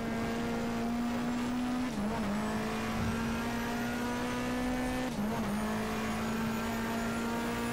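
Race car braking hard in the BTCC 1997 racing game, a loud steady engine drone with two brief dips where the pitch drops sharply under heavy braking before recovering, no talking.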